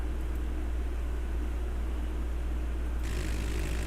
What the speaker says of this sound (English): I keep the aircraft sound turned down a little bit.